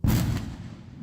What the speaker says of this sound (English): Oh, explosions. Music to my ears.